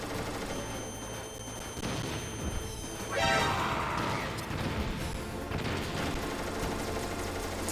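C4 explosive detonating in Metal Gear Solid, a loud burst with crashing debris midway through, set amid ongoing gunfire and game noise that keeps going after the blast.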